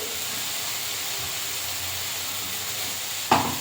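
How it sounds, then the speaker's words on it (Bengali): Boiled potato and spice paste frying in oil, a soft continuous sizzle and hiss at close range, ending with a brief sharp scrape of stirring. "দিয়ে একটু আলু আর মশলাটা একটু কষিয়ে নেব।"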